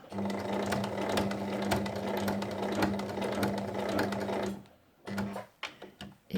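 A sewing machine stitches the end of a fabric apron tie along an ironed edge, a steady close whirring run that stops near the end, then a brief restart and a few soft handling taps.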